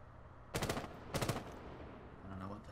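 Two short bursts of automatic gunfire from Rainbow Six Siege rattle in quick succession, moderately distant, followed by quieter game sounds.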